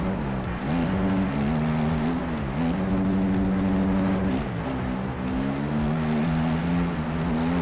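A motocross bike engine in the MX Bikes video game holds full throttle in third gear, a steady buzzing drone with rising and falling pitch as revs shift, loud and close throughout.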